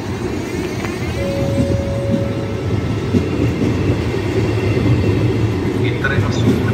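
Train rolling into Milano Greco Pirelli station, a loud continuous rumble of wheels and carriages with faint clatter, heard under a station announcement in Italian.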